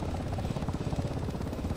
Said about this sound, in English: Get me out of this helicopter.